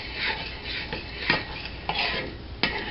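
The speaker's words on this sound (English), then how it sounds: "and I'm stirring" A spoon scrapes and swirls through paper mache paste thickening in a pot over heat, a steady rasping stir broken by a few sharper knocks against the pot's side, close and alone.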